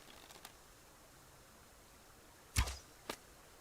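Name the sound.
arrow shot in the video game Subsistence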